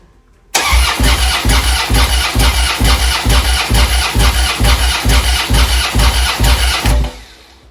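A Harley-Davidson Dyna Street Bob motorcycle engine cranks, then catches and runs with a steady, rhythmic chugging idle for several seconds before cutting off abruptly.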